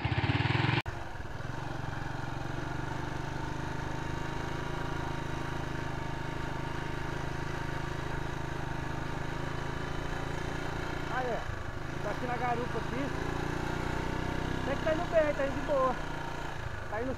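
A Honda Titan motorcycle engine idles close by at a steady, moderately loud level throughout, with a brief dip and surge as the rider works the clutch, while people talk over it intermittently.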